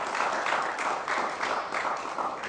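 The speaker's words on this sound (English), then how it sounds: "A round of applause for our guest." An audience gives a steady round of applause for a visiting guest speaker at a heart health talk, a dense, moderately distant clapping that lasts the whole moment on its own.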